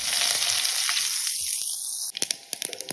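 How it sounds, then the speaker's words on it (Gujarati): Mustard seeds and cumin crackle in hot oil with a loud, close sizzle whose hiss shifts partway through, then breaks into sharp popping bursts toward the end. No one speaks. "રાઈ અને જીરું તતડવા લાગે એટલે એક મોટી ચમચી તલ નાખીશું અને એને પણ ફૂટવા દઈશું"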